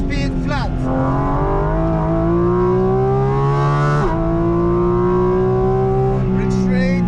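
Porsche GT4 RS racing on the Nordschleife, its engine droning loud and steady with rising and falling pitch through shifts and throttle changes, a sharp dip around the middle as it lifts and accelerates again, with a voice speaking over it.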